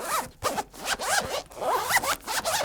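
A YKK zipper on an iPad accessory pulled back and forth several times in quick succession, close and loud, each stroke a bright rasping buzz.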